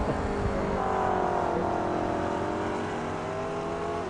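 A Riley race car lapping a track: a dense, continuous engine drone held at a steady high pitch, loud and unbroken with no voices over it.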